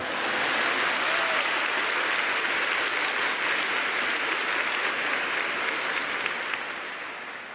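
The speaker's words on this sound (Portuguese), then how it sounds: "Now give them a clap." A congregation applauding at a spiritual retreat talk on inner healing, a thick, even wash of clapping from many people, loud and sustained for several seconds before easing slightly at the end.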